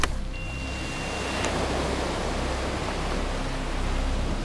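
Broad, steady wash of waves in the video game Uncharted, a continuous surf roar with no distinct breaks, moderately loud and alone without voices.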